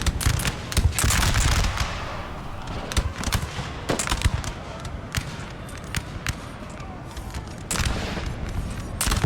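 Musket volleys crackle in a Napoleon: Total War battle, dense overlapping shots rolling continuously with sharper individual cracks standing out, moderately loud with no talking.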